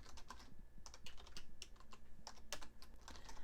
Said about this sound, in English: then tab over, and type in Sacramento